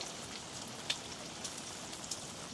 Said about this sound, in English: it's raining again quite heavily